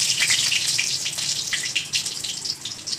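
Hot oil with black cumin seeds and whole dried red chillies spits and splutters where water has got into the pan, a bright, crackling hiss with irregular pops, close and continuous.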